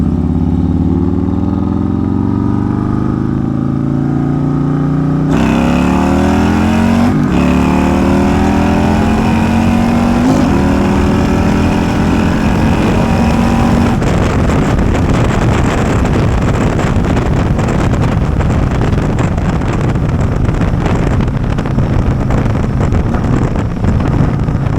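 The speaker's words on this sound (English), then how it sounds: "we're going to do a little second gear pull, see how she pulls with the new cam" A 2024 Harley-Davidson M8 motorcycle fitted with a new cam makes a second-gear pull, its loud engine rising steadily in pitch as it accelerates and then roaring on at high revs, with heavy wind buffeting throughout and no talking.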